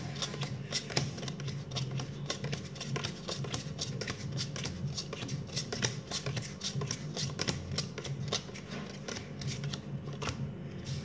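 A deck of playing cards shuffled by hand during a card magic trick, giving rapid crisp riffling clicks in a steady dense patter throughout, close and fairly loud with no talking.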